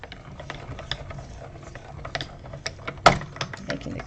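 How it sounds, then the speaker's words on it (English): Small Stampin' Cut embossing machine being cranked with paper feeding through, a faint run of soft mechanical clicks and ratcheting with one sharper knock near the end. "Stampin' Cut embossing machine. So we're just going to run it through"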